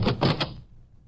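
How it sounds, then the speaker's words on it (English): A door closes in a radio drama sound effect, a few quick wooden knocks and a thump, close and short, then falling into near silence. "I heard a door close."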